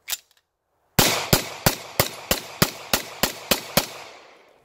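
A Tisas Regent BR9 pistol fitted with a Browning Hi-Power barrel and a Mec-Gar 15-round magazine fires about ten sharp, loud shots in a quick, even string, preceded by one isolated crack and ending in a fading outdoor echo.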